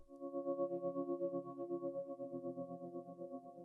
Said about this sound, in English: I supported this one with the high patch, sounds like this.